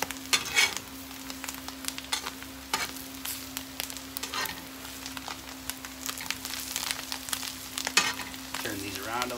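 Cudighi sausages sizzle in a pan while being stirred and turned, with a soft constant fry broken by repeated sharp bursts of scraping and spattering, over a faint steady electrical hum.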